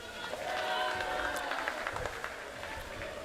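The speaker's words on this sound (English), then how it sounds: "I don't know if you guys can hear the cheerleaders. They're pretty loud tonight." Cheerleaders chanting at a high school basketball game between Gordon-Rushville and Kimball, masked: faint, distant crowd and cheering voices in a gym, with scattered clapping and thumps under the broad hall noise.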